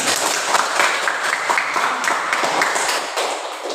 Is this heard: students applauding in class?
yes